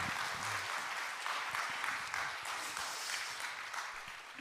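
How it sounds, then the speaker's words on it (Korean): A church congregation at a Wednesday evening service claps in steady, dense applause that lasts several seconds, fairly distant and even, with no speech over it. "다시 한번 장로님께 박수 한번 합시다."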